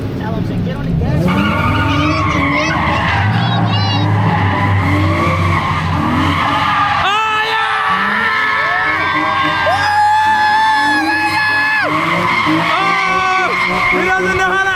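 Drifting car at an all-ladies drift day, tires squealing and skidding in long howling sweeps with the engine revving hard, while spectators talk and laugh close by.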